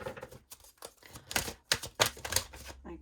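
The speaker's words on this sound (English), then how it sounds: "let's shuffle them properly" Tarot cards being shuffled by hand, a quick run of dry riffling and tapping bursts, fairly faint and close, with no talk over it.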